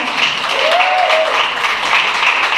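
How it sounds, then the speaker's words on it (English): A breakfast gathering's audience claps loudly and steadily, with a brief whoop rising over the applause. "Please round of applause."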